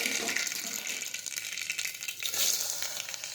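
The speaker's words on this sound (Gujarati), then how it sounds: "હવે આપણે તેમાં રાઈ અને જીરું નાખીશું, હિંગ નાખીશું." Mustard seeds, cumin and asafoetida sizzle in hot oil for a vegetable curry, a close, steady hiss with light crackling throughout.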